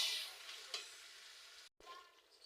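Chicken pieces sizzle and fry in a pan with cumin powder and a little sugar, a steady crackling hiss with occasional stirring scrapes and a brief dropout.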